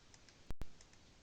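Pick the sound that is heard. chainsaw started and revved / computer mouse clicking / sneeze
computer mouse clicking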